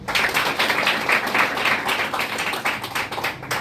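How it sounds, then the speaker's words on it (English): Audience applause for Swami Vivekananda at a National Youth Day speech, a dense, steady wash of many hands clapping at close range, sustained evenly for a few seconds with no voices over it. "Firstly, clap for him."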